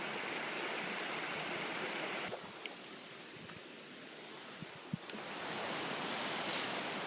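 A mountain stream in the Pecos rushes steadily and close by, a broad continuous wash of flowing water with a few small knocks and a brief lull midway, nobody speaking.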